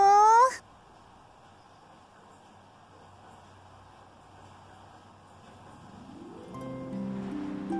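A short cat meow from the game Tales of the Abyss, a single bright call at the very start that cuts off and leaves quiet ambient hum and a soft rising background tone.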